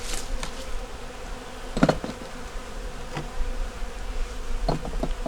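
Honeybees drone and buzz steadily at an opened hive under a magnolia tree, a dense continuous hum with a few louder bursts as bees fly close past.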